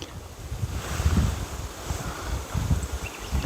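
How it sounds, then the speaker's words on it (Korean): Strong wind gusts outdoors by the sea, buffeting the microphone with low rumbling bursts that rise and fall irregularly over a steady background hiss. "바람이 제법 심하네요"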